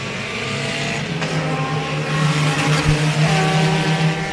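Race cars at Pennsylvania Motor Speedway roaring as the field takes the green, several engines droning and rising in pitch together at close range, one loud sustained pack sound with a brief sharp knock partway through.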